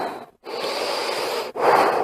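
A person demonstrates rhythmic deep breathing, with long forceful breaths rushing in and out. Two short silent gaps separate the strokes, and the final exhale comes out louder and harsher. The sound is close and there is no talking.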